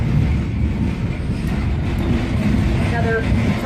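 A passenger train runs through a tunnel with a loud, steady low rumble and faint clickety-clack from inside the carriage, along with a brief high squeal near the end.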